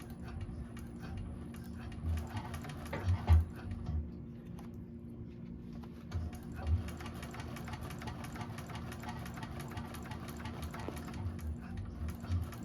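A 1341 cylinder arm sewing machine back stitching through bag material, a steady rapid mechanical chatter with a few low thumps and a brief pause, close and alone.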